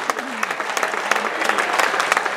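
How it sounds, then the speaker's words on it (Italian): Audience applause at an Italian tribute event honoring Pierflamigni, a dense, steady clatter of many hands clapping close by, with a few voices mixed in underneath. "Ma veramente con un applauso da spellarsi le mani"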